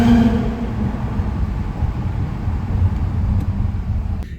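An Audi pulls hard in first gear inside a parking garage, its engine a steady, loud low drone that holds throughout with wind-like rumble and no talking.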